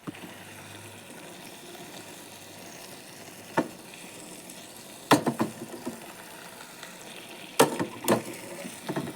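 Chicken liver fry with pepper powder sizzles steadily in a pan while a spoon stirs it, giving sharp scraping clatters and clanks over the continuous frying hiss.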